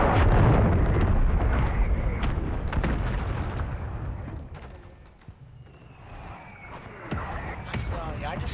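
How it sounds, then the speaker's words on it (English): A cruise missile explosion in Call of Duty MW3 roars in a loud, broad blast that rumbles and slowly fades, followed by scattered crackling and distant pops while people talk. "Hostiles launched your cruise missile."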